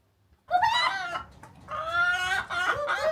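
Chickens cluck loudly and close by in two bursts of a few seconds each, on a windy outdoor day with no talking.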